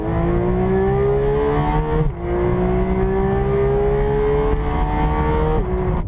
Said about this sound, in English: that last 600 RPM, the noise, this sort of hard mechanical valve train noise that comes through